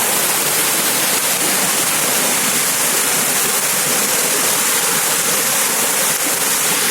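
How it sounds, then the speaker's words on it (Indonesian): A strong river current rushes at the Waela dam in Negeri 5, Maluku Tengah, a constant loud roar of churning water, close and unbroken throughout. "arusnya sangat deras"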